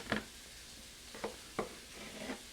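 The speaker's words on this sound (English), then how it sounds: "All right, let me stir that up just a little bit." Low-carb pasta-less tomato sauce is stirred in a pan, with four or five soft spoon scrapes spaced over a quiet, gentle simmer.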